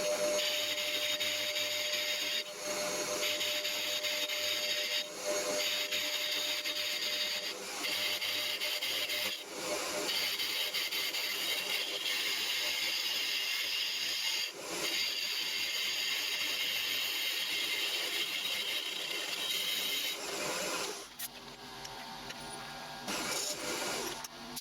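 Steady machining cuts on a homemade rotary table, a continuous grinding, rasping whir with brief dips as each pass ends, fairly loud and close with no talk.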